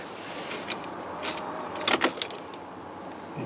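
A key jangles and clicks into the ignition of a Saab 9-5 in a few quick, close, quiet metallic rattles, with no talking.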